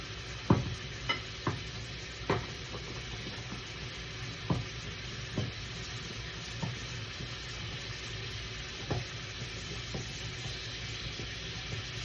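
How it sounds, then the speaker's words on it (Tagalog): Onions frying in a pan as the base for a coconut paella (bringhe): a steady, even sizzle throughout, broken by a dozen or so light knocks and scrapes of a stirring utensil against the pan, with no voices. "2 minutes na sibuyas pa lang ang naluluto ko"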